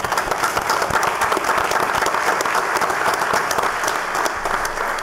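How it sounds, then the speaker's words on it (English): A council meeting audience in Orlando breaks into steady, dense applause, many hands clapping continuously at even loudness throughout. "give them a warm round of applause"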